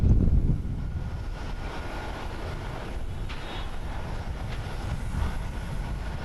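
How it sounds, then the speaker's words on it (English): Japan Airlines Boeing 737 landing on an intersecting runway at Haneda Airport in Tokyo, a steady low jet roar at a distance that swells slightly partway through, no voices. "a Japan Airlines Boeing 737 lands on the intersecting runway down to our right"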